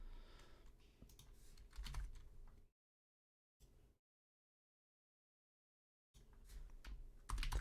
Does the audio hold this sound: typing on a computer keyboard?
yes